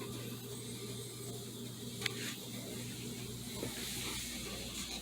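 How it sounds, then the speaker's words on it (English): An Alka-Seltzer tablet fizzes in water inside a homemade lava lamp, a steady close hiss that runs unbroken over a low hum, with a couple of brief sharper bursts. "The Alka-Seltzer is fizzing down there, which is fizzing inside the water"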